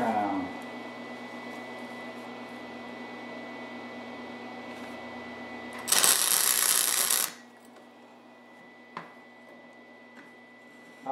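Stitch welding on a generator muffler exhaust extension produces a single bright, crackling, hissing burst of about a second over a steady low hum, followed by quieter stretches with a few faint clicks.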